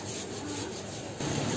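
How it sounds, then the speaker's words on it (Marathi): Boiled potatoes and paneer grated by hand in a home kitchen, a steady close scraping rasp that continues without pause and grows slightly louder near the end. "दोन्ही किसून घेते."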